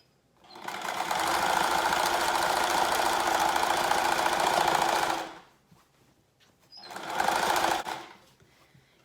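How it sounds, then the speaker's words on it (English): A sewing machine stitches fabric strips for a window valance, running in a close, steady mechanical whir for about five seconds, then stopping briefly before a second shorter burst of stitching. "You're just sewing just another strip"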